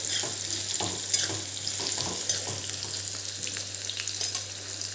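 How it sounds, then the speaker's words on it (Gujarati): Raw mango pieces, about 125 grams, roast in a pan over a very low gas flame, giving a steady, soft sizzle with a few faint stirring scrapes and a low hum underneath, with no talking. "એને આપણે એકદમ ધીમા ગેસ ઉપર થોડા શેકાવા દઈશું"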